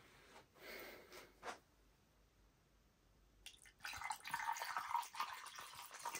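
Dry rosé wine poured into a cup, heard as a faint close-up liquid stream with soft gurgling and trickling that starts partway through after a few quiet breathy sounds.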